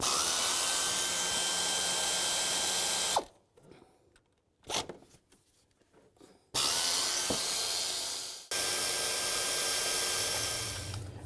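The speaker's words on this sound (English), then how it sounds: "so I'm just going to use an air tool" Air tool loosening intake bolts on a 2000–06 GMC Yukon, loud sustained whirring bursts broken by pauses with clinks and handling noises, the tool running up again twice more.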